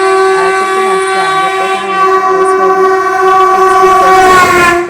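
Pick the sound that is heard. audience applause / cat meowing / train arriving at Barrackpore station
train arriving at Barrackpore station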